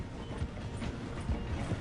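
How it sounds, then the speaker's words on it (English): A train rolling through a station in Red Dead Redemption 2, steady mechanical clatter with rhythmic clunking of wheels and rail cars, close and continuous as it slows. "The train is slowing down to go through the station."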